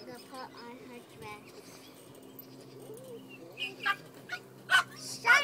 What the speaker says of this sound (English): Those are the dogs next door.